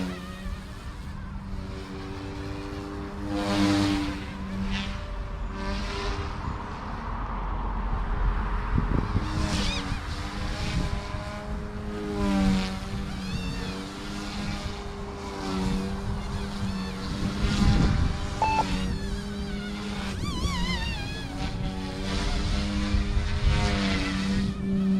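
A Blade Infusion 180 radio-controlled helicopter hovering nearby, its steady rotor and motor whine droning continuously with slight shifts in pitch.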